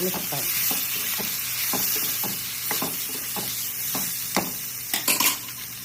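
Brinjal and potato fry in a pan with a steady oily sizzle, broken by repeated rhythmic spatula strokes scraping through the vegetables. Close and fairly loud, with a quick flurry of scrapes near the end.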